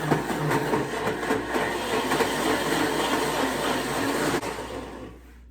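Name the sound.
Ninja Creami ice cream maker blending a frozen mix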